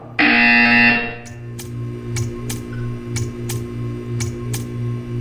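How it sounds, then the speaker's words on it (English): A loud, harsh electronic buzzer in Portal 2 blares for about a second, followed by a series of faint, evenly spaced ticks over a low hum. "You will hear a buzzer. When you hear the buzzer, stare at the art."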